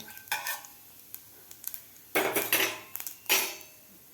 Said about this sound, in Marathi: जिरे आणि मोहरी आपल्याला व्यवस्थित फ्राय करून घ्यायचे आहे